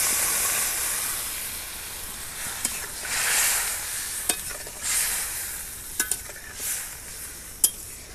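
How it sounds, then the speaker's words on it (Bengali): Water is poured into spiced potatoes frying in a pan, setting off a bright, steady sizzle with swelling bursts of hiss and a few sharp clicks of stirring, with no talk. "এবার আমি এর মধ্যে জল দিয়ে দেবো পরিমাণ মতো।"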